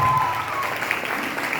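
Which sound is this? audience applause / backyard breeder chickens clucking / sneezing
audience applause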